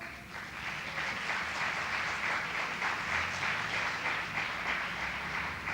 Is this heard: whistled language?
no